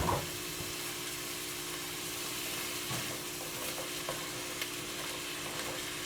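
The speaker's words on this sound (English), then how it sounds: "I'm going to add my carrots and onions. Let that cook down." Carrots and onions softening in a pot for a Moroccan lamb stew, giving a steady, moderate sizzle that runs throughout with occasional faint clinks of stirring, no voices.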